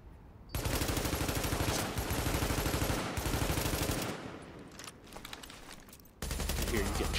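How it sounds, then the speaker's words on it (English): Sustained automatic gunfire in Tom Clancy's The Division video game, loud rapid bursts running for several seconds, dropping to quieter shots midway and then resuming at full intensity. "I hear you getting shot to shit."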